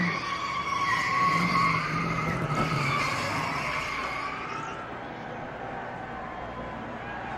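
Denny Hamlin's NASCAR stock car sliding sideways after contact with another car, a loud sustained tire squeal and skid over roaring engines that fades after a few seconds as the car gathers itself.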